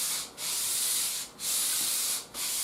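Hand sanding on a wooden bass guitar body, three long even strokes of gritty rubbing with short pauses between, close and steady.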